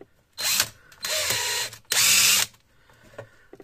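A hammer drill whirs in three loud bursts of about half a second each, separated by short pauses, close up.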